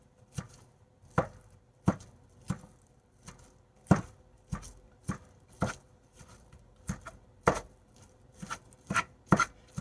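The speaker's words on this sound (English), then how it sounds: "I'm going to use one of my wooden spatulas to break it up so that it can start cooking down" Wooden spatula breaking up breakfast-bake ingredients in a pan, heard as a series of sharp, evenly spaced knocks and chops, about a dozen over ten seconds, close and fairly loud with no talking.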